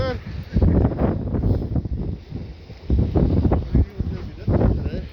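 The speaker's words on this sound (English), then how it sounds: "It's not actually cold, it's just windy." Strong gusting wind during a blizzard buffets the microphone in loud rumbling bursts, mixed with people talking outdoors close by.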